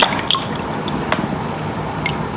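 Water drips and trickles steadily close by from wet paper pulp being lifted, with scattered droplets splashing into liquid over a constant wet hiss.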